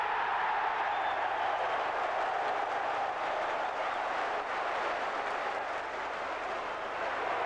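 Football stadium crowd at a Nottingham Forest match in the 1990/91 season keeps up a steady, broad roar of cheering, distant and continuous with no distinct breaks.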